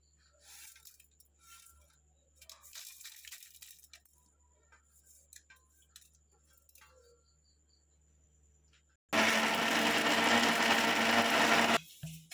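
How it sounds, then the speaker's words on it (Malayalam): Quiet scraping and handling sounds, then a mixer grinder roars loudly for about three seconds, crushing green mango chutney ingredients with rock salt, before cutting off abruptly. "ഇനി നമുക്ക് ഇതൊക്കെ കൂടിയിട്ട് മിക്സിയിലിട്ടിട്ടൊന്ന് ചതച്ചെടുക്കാം"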